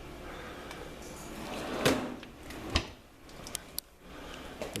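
A drawer in a woodworking shop slides and bumps shut with a couple of soft knocks and rattles, quiet and close amid light room noise.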